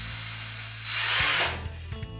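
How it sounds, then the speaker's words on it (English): A power drill with a wood screw bit boring through wood while mounting a wall guitar hanger, motor whine steady then rising into a rough grinding bite for about half a second, followed by slowing clicks. "So wood screw drill bit first, just to go through the wood."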